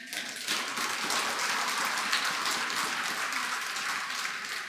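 Steady applause from an audience at a Buddhist Dharma talk during a Flower Garland Sutra assembly at Tongdosa temple, many hands clapping evenly throughout at a moderate distance.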